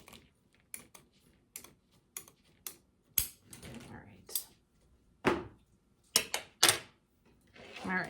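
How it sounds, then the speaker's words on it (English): Zip ties ratcheting tight around a wire wreath frame while mesh flowers are attached, giving sharp, close clicking zips in short separate bursts with quiet gaps between them. "And we're going to attach this with zip ties."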